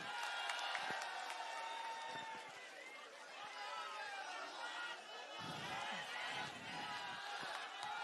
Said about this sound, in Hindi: जोरदार तालियां हो जाए संजय सिंह जी के लिए।